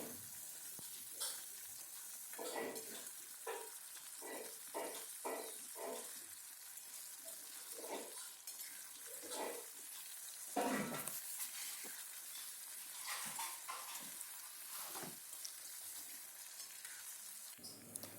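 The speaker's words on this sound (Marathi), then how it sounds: "आता आपण या आलूला तेल तेलामध्ये तळून घ्यायचे" Potatoes fry in hot oil in a kadai for a Maharashtrian aloo bhaji, giving a steady close sizzle broken by repeated scraping stir strokes and clinks with no talking.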